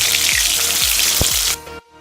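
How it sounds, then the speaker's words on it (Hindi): Chicken pieces frying in hot oil over a high flame for Indo-Chinese chili chicken, a loud continuous sizzle with a few sharp pops, which cuts off abruptly near the end. "फिर उसको हम हाई फ्लेम में 4 या 5 मिनट के लिए फ्राई करेंगे।"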